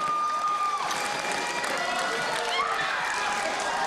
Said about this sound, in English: Listen to this crowd. They love it.